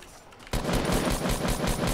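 Rapid automatic gunfire in Fortnite Battle Royale erupts after a brief quiet moment, a dense, loud stream of repeating shots that continues steadily to the end.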